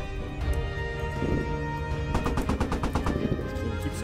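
Rapid gunfire bursts in a video game with an Abrams tank on Al-Basrah, a dense, loud string of cracking shots in quick succession over a rumbling background.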